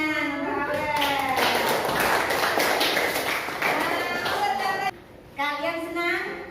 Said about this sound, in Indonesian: Tepuk tangan untuk Aurel.